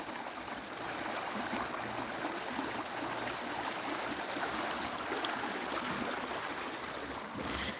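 A river rushes past a broken granite dam with a broad, steady, hissing roar, loud and continuous throughout with no talk.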